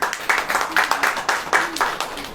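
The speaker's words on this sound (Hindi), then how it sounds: "ताली बजाइए" A congregation claps along during a Hindi sermon, with about six or seven loud, rhythmic bursts of applause in quick succession filling a short stretch of a church gathering.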